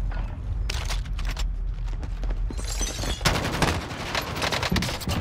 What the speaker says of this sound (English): I've got a burst machine gun, son of a gun.